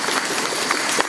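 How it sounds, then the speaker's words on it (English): Audience applause at a dance performance, a dense steady wash of clapping that fills the whole short moment, loud and close with no voices on top. "Give them a round of applause"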